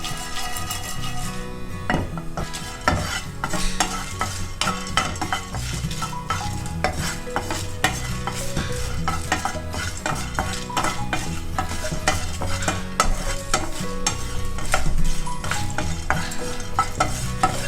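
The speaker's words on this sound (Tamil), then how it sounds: "காஞ்ச மிளகா போட்டுட்டு இதை நல்லா வறுத்துப்போம்" Dried red chillies fry and get stirred in a pan for Ven Pongal, a steady dense sizzle with repeated scraping and clinks of a spoon against the metal, close and continuous throughout with no talk.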